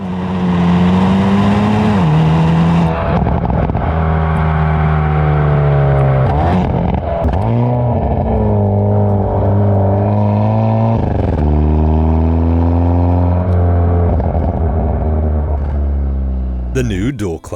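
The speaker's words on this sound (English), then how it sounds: "the crackling exhaust add to the effect" A 2021 Hyundai Veloster N with dual-clutch transmission revs hard and loud up close, with pitch climbing and dropping through gear changes and sharp crackles from the exhaust.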